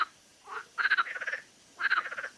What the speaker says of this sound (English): It was, in fact, the marsh frog, Pelophylax ridibundus.